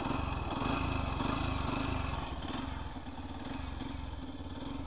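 A Yamaha FZS V3 motorcycle engine runs close by with a steady pulsing idle-like throb and mechanical clatter, slightly easing in level partway through, with no talk.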